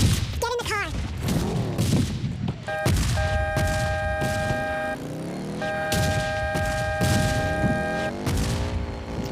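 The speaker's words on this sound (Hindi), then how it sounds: "सो यहाँ पर मुझे मिल चुकी है मशीन गन।" Machine gun fire crackles in bursts during Rush gameplay, mixed with booms, engine drone and synthetic game tones.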